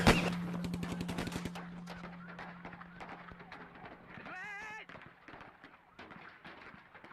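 Rapid bursts of automatic weapon gunfire crack in quick succession, loud at first then continuing in irregular volleys for about nine seconds, with a shouting voice partway through.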